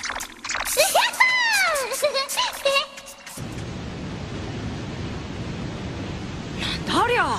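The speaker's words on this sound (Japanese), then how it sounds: "地上の水が地下に流れ込んでいるんですわ" A waterfall where water from the surface pours down underground in an anime scene. It comes in as a steady, loud, broadband rush after about three seconds of high, warbling cartoon voices and chirps, with more chirping tones rising over the roar near the end.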